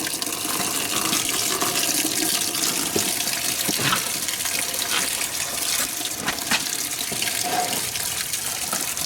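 Coolant pouring out of the radiator of a Mahindra 8560 tractor, a continuous loud splashing stream that runs steadily throughout with a few sharper drips and spatters, no talking over it.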